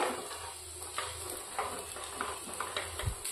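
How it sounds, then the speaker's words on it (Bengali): Tempered snack of roti and dal being stirred in a pan with spices: soft continuous scraping and light sizzling, with faint clicks of utensil against metal, close and unaccompanied by talk. "এবারে এগুলো আমি আলতো হাতে একটু নাড়াচাড়া করে নেব"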